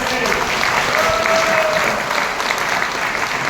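A large indoor audience at a networking business seminar claps loudly and continuously, a dense sustained wash of applause across the whole stretch with a brief whistle-like tone partway through.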